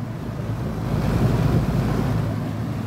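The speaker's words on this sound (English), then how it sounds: "My fan is spinning" The condenser fan of an R22 HVAC unit, run with its contactor held in, spins with a steady close whooshing rumble and no voices over it.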